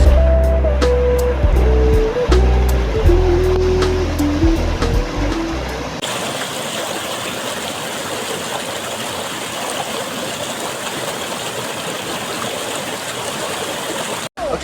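A heavy lorry passes on a road beside a river: a loud, close engine rumble for about six seconds, then it gives way to the steady rush of stream water.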